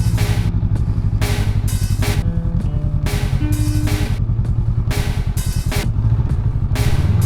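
A motorcycle ridden slowly in a parking lot, its engine chugging loud and close with a rhythmic throb and repeated rises as the throttle opens.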